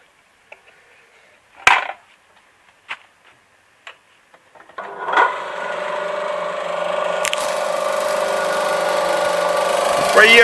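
An apple crusher for juice and wine, driven by a Zarya 2M washing machine motor, starts up after a few clicks and knocks, then settles into a steady loud whirring drone that keeps running to the end.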